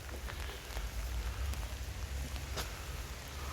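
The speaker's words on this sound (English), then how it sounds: "20 past 11, it's still raining." Steady rain falling in the town of Appleby, a constant close hiss of drops on hard surfaces with occasional louder drips, no talking.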